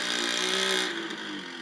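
A dirt bike engine revs hard and high as the rider pops a wheelie, a loud sustained buzzing whine that eases off slightly toward the end.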